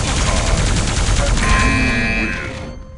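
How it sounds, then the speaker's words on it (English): A plasma gun in Quake Live deathmatch fires a rapid, continuous stream of crackling bursts, loud and close, then a tonal whine before the sound fades out at the end. "Grab two plasma guns and go all in."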